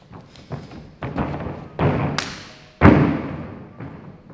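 A gymnast tumbling a round off into an X-out lands with several soft thuds and one heavier impact near the end, close up and alone, with no voices.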